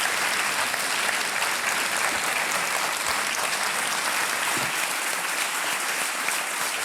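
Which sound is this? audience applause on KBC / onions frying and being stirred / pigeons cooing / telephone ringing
audience applause on KBC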